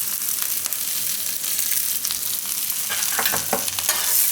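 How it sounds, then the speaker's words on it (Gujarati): Salt is stirred and roasted in hot oil on a low flame: a continuous bright sizzle with scraping, clicking stir strokes that grow busier toward the end. "અને થોડીક વાર શેકી દઉં તેલમાં"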